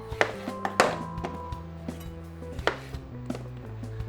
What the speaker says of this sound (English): grab a few lemons here, grab my knife, and slice them up